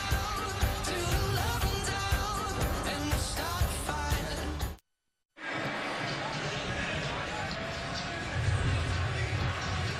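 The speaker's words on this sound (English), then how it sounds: "TCU fans enjoying the start here in Fort Worth" Overflow home crowd roaring for TCU's Horned Frogs at a 2015 college football game against Texas in Fort Worth, with the team up 7-0; a loud, dense stadium roar that cuts out briefly, then resumes under a commentator's voice.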